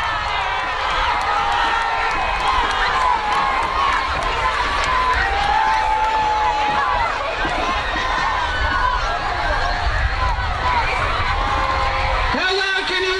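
A large crowd at a high school homecoming pep rally cheers and screams continuously, a dense, loud roar of young voices sustained throughout.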